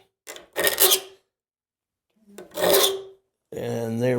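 A hand file rasps across a misshapen tooth of a cross cut saw blade in two separate strokes, followed by a longer steady filing pass, loud and close with no talk.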